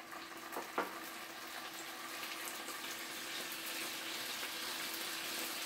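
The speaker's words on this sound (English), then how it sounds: "and then you can hear my sizzle." Salmon fillet laid skin side down in a hot copper pan with oily marinade, giving a steady, close crackling sizzle that holds evenly throughout with no talking.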